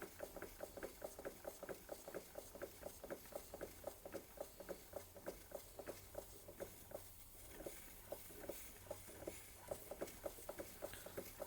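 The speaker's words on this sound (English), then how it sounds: "Very smooth engine." Bing 130/382 poppet valve model steam engine, lightly restored, running on its first run: a fast, even, rhythmic ticking and chuffing of valve beats, faint and close, holding a steady pace with a slight slowing partway.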